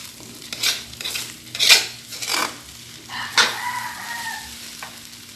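Chicken and aromatics for congee stirred and sautéed in a pot, with several distinct scraping strokes over a gentle sizzle, close by, and a rooster crowing faintly in the background.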